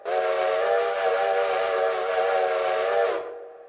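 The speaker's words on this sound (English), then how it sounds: "It's actually the default whistle on the game." The default steam locomotive whistle in the video game Railroader gives one long, steady chime-like blast of about three seconds, loud and close, then cuts off with a short fading tail.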